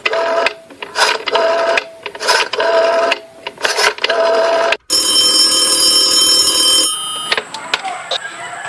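Telephone ringing in a radio play, a series of loud bursts of ringing with short gaps, followed by a steadier electronic tone and line noise.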